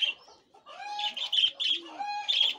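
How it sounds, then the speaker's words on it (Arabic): Small birds kept at a farm chirp and tweet in quick, bright bursts close by, overlapping calls and short trills filling the moment with no talk. "وحنرجع نشوف الطيور اللي جوا اللي بتزقزق هذه"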